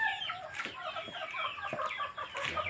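Chickens on a farm cluck in short, scattered bursts, several birds overlapping at moderate distance with a faint background hum and no talking.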